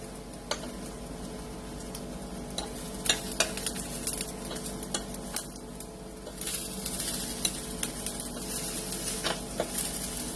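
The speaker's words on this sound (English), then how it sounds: "I don't like raw onions, so I'm cooking mine. Now you want to just get them charred, don't want to burn them." Onions cooking and charring on a grill alongside peaches, a steady sizzle with repeated scraping and clinks of a metal utensil turning them, close and without voices.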